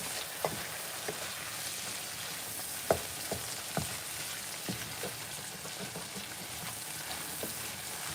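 Tomato puree cooks down in a pan for Cajun chicken pasta, a steady soft sizzling hiss scattered with faint pops and ticks, heard alone without voices.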